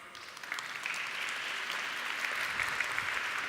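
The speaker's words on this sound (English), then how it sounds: "Let's give him a warm round of applause." Audience applause at a design conference welcoming a speaker, a soft, distant patter of many hands that swells slightly and holds steady.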